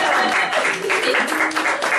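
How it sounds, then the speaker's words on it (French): An audience applauds at a live show, a dense, steady wash of many hands clapping that stays loud and even for the full two seconds. "On peut l'applaudir aussi, hein"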